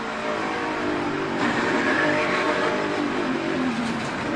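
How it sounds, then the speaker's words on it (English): Onboard a NASCAR race car at the Daytona 500, a steady loud engine roar rises and falls as the driver downshifts to slow for a crash, with dense racing noise throughout and no talk. "He even downshifted, trying to get that car slowed down enough to avoid this accident."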